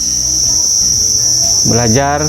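Crickets raised in boxes at a cricket farm chirp loudly in a constant close, high trill that fills the whole stretch, and a short warbling call rises near the end.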